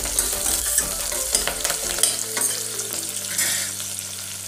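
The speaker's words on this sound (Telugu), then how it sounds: "పచ్చిమిర్చి స్లిట్స్, కరివేపాకు వేసి ఒకసారి కలపండి" Green chili slits, curry leaves and onions fry on a medium flame and are stirred in a pan, with a steady loud sizzle and utensil scrapes throughout.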